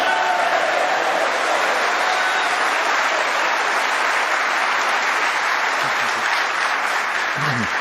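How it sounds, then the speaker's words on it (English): A snooker crowd at the 2022 Champion of Champions final applauds Ronnie O'Sullivan's 103 century break. The clapping is loud and continuous throughout, with a few faint shouts mixed in. "Great reaction from the crowd."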